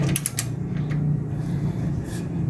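Wrench tightening a rear shock absorber bolt on a Chevrolet Spin: a few quick ratcheting clicks at the start followed by low mechanical creaks and scraping, close and moderately loud, with no speech.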